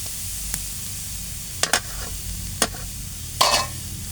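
Boiled chickpeas being stirred lightly in a pot, with a few sparse scraping and clinking strokes of a spoon against the pot above a quiet steady background hiss.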